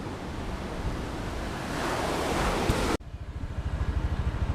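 Ocean waves crashing on the beach at Nusa Dua, Bali, a loud continuous roar of surf with wind, then a close rhythmic wash of breaking water after a sudden cut.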